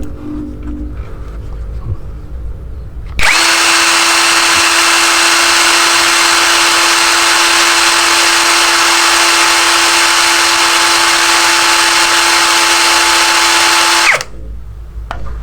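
An NPP impact drill running at speed 2 roars loud and close with a steady high whine for about eleven seconds, then cuts off, with quieter handling noise before and after.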